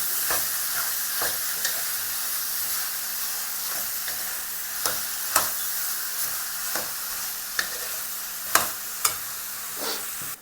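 Chicken with lemon juice and onions sautés over a high flame for a Kerala-style stew, a continuous sizzle broken by repeated sharp scrapes and clinks of stirring in the pan.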